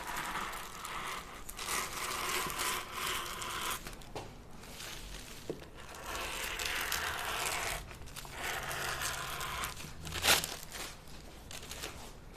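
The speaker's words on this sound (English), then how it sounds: "I'm just trying to cut out my muslin" Scissors cut through muslin fabric for a pair of jeans, a steady close crinkling and rustling of cloth and paper with soft snips and scrapes, one sharper crunch near the end.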